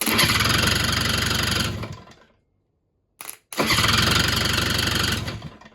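An IZh Jupiter motorcycle engine cranks on its electric starter and roars loudly for a couple of seconds, cuts out, gives a brief sputter, then catches and runs again.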